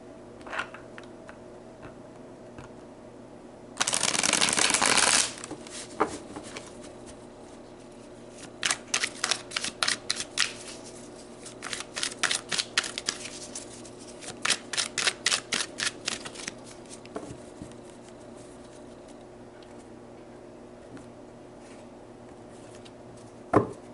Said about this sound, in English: Let's pull some cards about your soul contract.